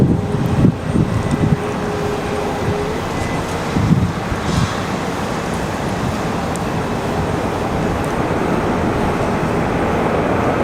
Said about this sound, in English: Man, I'm getting pelted with this wind here.